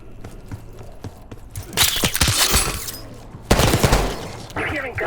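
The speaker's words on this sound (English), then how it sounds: "You hearing gunfire?" Gunfire in a Call of Duty: Black Ops 6 game scene, loud bursts of rapid shots with crackling impacts and a second burst midway, following quieter moments with brief voice.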